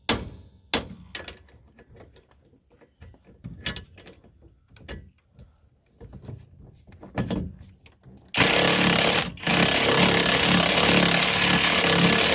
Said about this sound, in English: With a little bit of persuading with the impact wrench, I managed to get the castle nut back off.